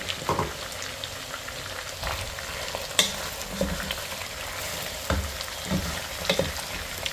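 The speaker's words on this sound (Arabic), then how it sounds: "هننزل ببصلاية متقطعة صغير كده" Small chopped onion frying with golden-browned chicken and spices in a pan for Emirati chicken machboos, a soft steady sizzle with occasional crackles and faint stirring taps, quiet and close.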